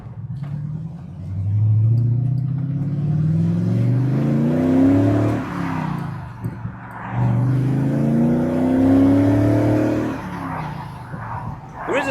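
TVR sports car engine accelerating hard on a damp, drizzly road, two loud rising revving pulls with gear changes between them, heard up close and alone.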